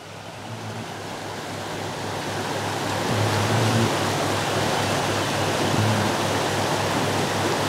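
Small waterfall pouring into a fishing hole, a close, steady rushing and splashing roar that swells slightly louder partway through, with no voices.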